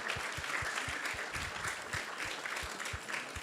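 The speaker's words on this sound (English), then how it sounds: "So let's give a big round of applause to everyone who has joined us tonight here." Audience applause at a temple Sunday feast in an ISKCON hall, many hands clapping steadily over a regular low thumping beat, continuous and fairly close.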